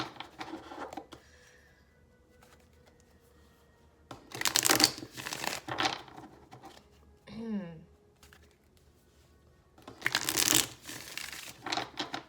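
Tarot cards shuffled and pulled in two brief bursts of riffling and sliding, fairly close, separated by quiet stretches with faint background sound.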